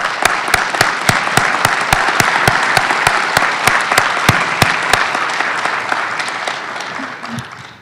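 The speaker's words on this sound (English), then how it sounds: "Can we give you a round of applause for that?" Steady, loud applause from an audience at a talk on men's action against violence toward women, with dense clapping that fades near the end.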